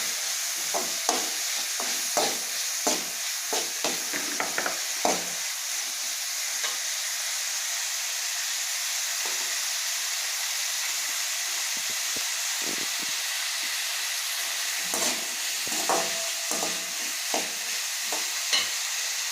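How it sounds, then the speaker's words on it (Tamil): Vegetables for a vegetable biryani are sautéed in a pan: a steady frying hiss runs throughout, with repeated clinks and scrapes of a spoon stirring, close and alone. "நல்லா வதக்கணும்"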